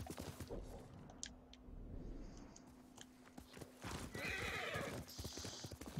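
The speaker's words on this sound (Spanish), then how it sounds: "Ay, mi caballo no sabe acercarse a mí" In the Ghost of Tsushima video game a horse clip-clops over ground, with hoof thuds, a snort and a loud neigh near the end, all fairly close over a steady low game hum.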